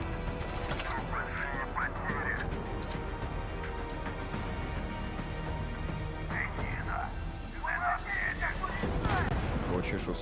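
Rapid gunfire bursts from a video game trailer, crackling volleys at the start and again near the end over a dense music and effects bed, with people talking through it.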